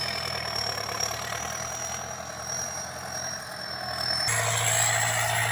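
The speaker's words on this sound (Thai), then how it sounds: "เสียงเครื่องยนต์มันดังผิดปกตินะครับ" A car engine with an abnormal fault noise drones continuously with a rough, uneven rumble and a persistent high whine, growing slightly louder near the end.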